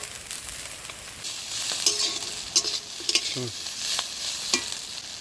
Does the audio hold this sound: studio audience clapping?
no